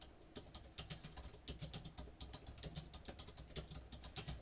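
Rapid, uneven clicking of a computer keyboard as someone types during a card-making craft session, crisp close taps in bursts with no talking.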